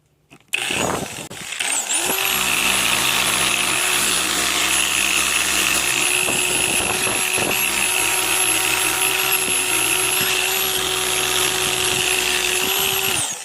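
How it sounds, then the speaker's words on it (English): Power sander grinding against the body panel of a 2007 Mercedes-Benz S550 salvage car, a loud steady whine that starts abruptly after a few knocks and runs without a break at close range. "let's get finished sanding."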